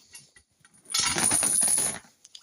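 A short metallic jingle and rattle lasting about a second, like links of a roughly 3-metre metal chain shifting and clinking together, close and isolated in quiet.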